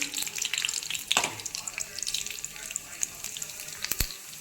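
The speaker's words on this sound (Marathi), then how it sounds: "आता इथे तेल टाकून घ्यायचं" Oil poured into a pan while cooking a yellow curry, a steady liquid wash with a few sharp clinks and crackles, fairly close and continuous.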